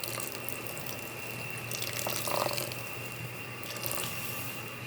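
Water pouring and splashing into a pan of sautéed bitter melon with shrimp paste under a steady hum, faint and continuous with a brief brighter gush midway.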